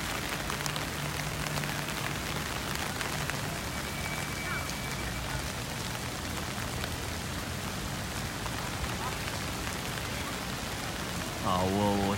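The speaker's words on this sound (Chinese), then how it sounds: "听着雨声哈，滴滴答答的雨声" Steady rain falls across an open civic plaza among high-rise buildings, a dense even hiss with a faint low hum underneath and a brief louder rustle near the end.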